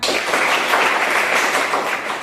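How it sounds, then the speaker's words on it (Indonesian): A class of students applauds together, giving a dense, steady patter of clapping that fills about two seconds at close range with no voices over it. "Tepuk tangan."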